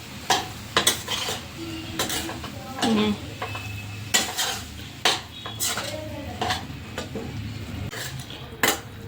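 A spoon stirs sabudana khichdi with squeezed lemon juice in a pan with the gas turned off, sharp intermittent scrapes and clinks of metal against the pan over a faint residual sizzle, with no talking.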